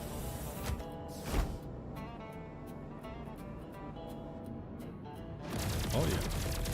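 Gunfire from a ship-mounted gun in the space game Star Citizen, a rapid burst of crackling shots over a steady engine-like drone, with a louder sustained volley at the end.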